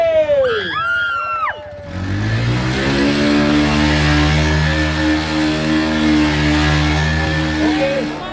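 A Bajaj Pulsar NS 125 motorcycle at a college bike event, its engine revving loud and close to a sustained high drone after a few short blips, with voices and crowd noise at the start.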